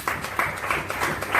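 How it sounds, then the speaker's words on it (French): A church congregation applauding the Lord with rhythmic clapping, bright regular bursts roughly every third of a second, close and moderately loud. "On acclame pour le Seigneur"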